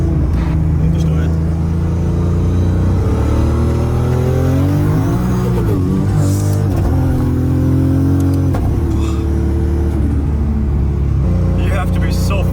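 A 1000 HP Toyota Supra's turbocharged engine roars loudly and continuously at the Nürburgring, the revs climbing and dropping through gear changes, with speech faintly beneath it.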